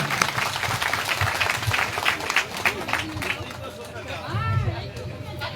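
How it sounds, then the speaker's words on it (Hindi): An audience applauds loudly at a community address, dense clapping that carries on for several seconds while voices and chatter rise beneath it. "जोरदार तालियों से स्वागत।"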